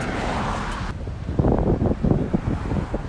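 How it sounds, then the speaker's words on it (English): Strong wind gusting outdoors by the beach buffets the microphone in a steady low roar, with a brief change in the noise early on and no talk. "It's windy."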